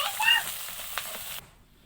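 Cabbage frying in a pan after a little more oil is added, giving a brief sizzle that fades out after about a second and a half with no talk.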